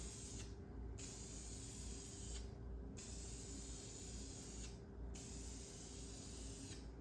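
Spray paint hisses steadily as a color coat goes onto a Jeep TJ grille, one long continuous burst with three short breaks, close and fairly quiet, with no voices.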